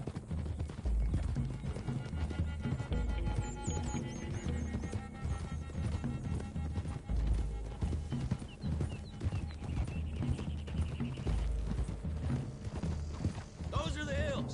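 Horses gallop with steady clip-clop hoofbeats in the Red Dead Redemption 2 video game, heard along with a brief whinny, creaking tack and game music, under a dense continuous mix that includes voices.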